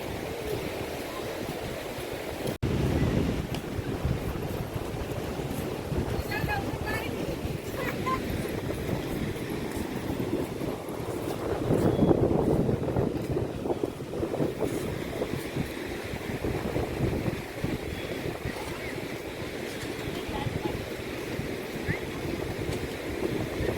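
Strong wind buffets the microphone on Shrivardhan beach, a steady roaring rumble with surf noise mixed in that runs loud and unbroken throughout, with a brief louder gust near the middle.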